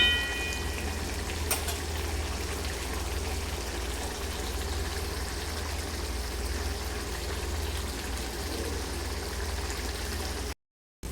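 Bottle gourd and tomato curry bubbles and sizzles over raised gas heat as the water cooks off, a soft, steady frying hiss that runs continuously at close range before cutting out at the end.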